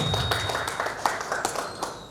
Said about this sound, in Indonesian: Baik, tepuk tangan dulu buat kita semua.